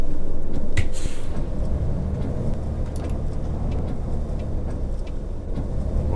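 A coach bus in the video game Fernbus pulls away with a low, steady engine rumble and road noise, close and constant, with a brief hiss or click near the start.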